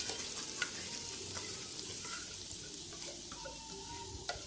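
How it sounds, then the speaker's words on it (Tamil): Ground spice paste sizzles in a hot pan with curry leaves for a country chicken curry, a steady crackling hiss with occasional sharper pops and stirring scrapes, fairly quiet and without voices. "தாளிச்சுட்டு நம்ம அரைச்சி வச்சுருக்க விழுது எல்லாம் இதில் சேர்த்திடலாம்."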